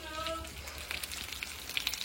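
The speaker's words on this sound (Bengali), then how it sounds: "এটা মাছ ফ্রাই করা অলমোস্ট শেষ।" Fish fries in a pan with a soft, steady sizzle and scattered small pops and crackles, fairly close, with no talking.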